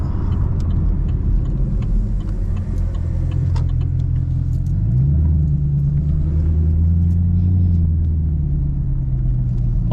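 A loud Chevrolet Camaro SS rumbles steadily from inside the car on a night drive, a deep continuous engine drone that shifts pitch midway as the revs change, with no talk.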